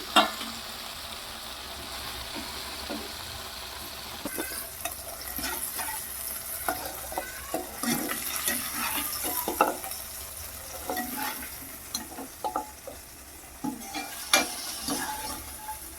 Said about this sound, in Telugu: సో లైట్గా అయితే వేయించుకుందాము చక్కగా ఉడికిందండి